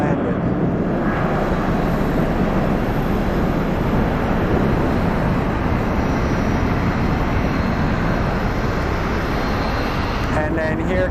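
An airliner arriving at Phoenix Sky Harbor airport produces a loud, broad, steady roar of jet noise throughout, with a voice talking faintly underneath.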